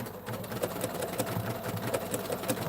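A sewing machine runs a short lock-off stitch while appliqueing fabric, a steady close mechanical whir with a faint rhythmic tick throughout and no talk over it.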